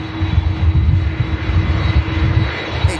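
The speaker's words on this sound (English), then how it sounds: "Awesome 330 of Aer Lingus UK." An Aer Lingus UK Airbus A330 with CF6 engines roars steadily at Manchester Airport, a loud, close, sustained engine drone with a low rumble throughout.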